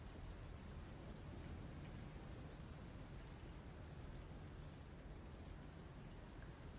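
Steady rain at sea in the naval game War On The Sea, a dense, even hiss of drops pattering without pause, with faint low rumbling underneath and no voices.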